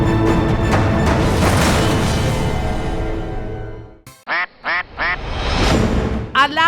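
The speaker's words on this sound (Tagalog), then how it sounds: "Alagang bibe ni John" A pet duck quacks in a quick series of four loud, nasal calls after a burst of noisy clatter, with more quacking at the close.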